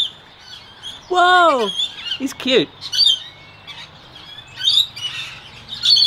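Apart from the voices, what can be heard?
bird chirping on a person's shoulder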